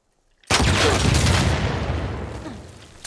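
A single loud gunshot goes off in the video game The Last of Us 2, abrupt after silence, with a booming blast that rolls and decays over a couple of seconds.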